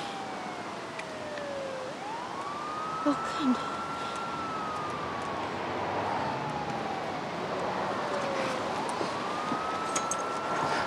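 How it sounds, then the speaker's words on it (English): An ambulance siren wails, rising and falling repeatedly at middle distance, sweeping through long cycles over street noise, with a brief voice speaking once. "That'll be the ambulance."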